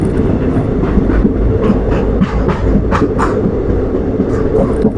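Riding aboard the Howrah-Mokama Express at night, a loud continuous rumble of the train fills the clip, with rhythmic wheel clacks on the rails and no voices.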